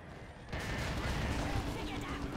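Artillery fire in the real-time strategy game Dawn of War II: Retribution during a 3v3 match bursts in as a dense, sustained booming roar, with a voice talking over it.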